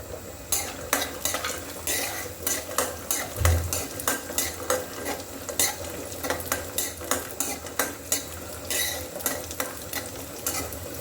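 Raisins are stirred in a pan with a steady run of close, clinking scrapes of a utensil against metal, repeated through the whole stretch over a faint sizzle, with no talking.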